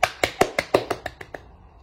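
About eight sharp hand claps come in a steady rhythm, close and crisp, then grow fainter and slightly slower before stopping.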